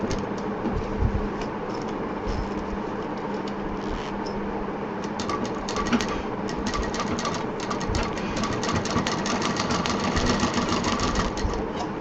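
A sewing machine runs steadily, stitching a fabric loop beside a handbag zipper, its fast mechanical whir and needle chatter continuous and close for the full stretch, with no talking.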